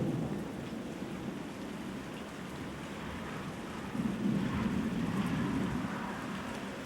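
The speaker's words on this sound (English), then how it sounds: "Got a nice thunderstorm going." Rain falls steadily in a soft hiss while a low thunder rumble swells midway, then fades back under the rain.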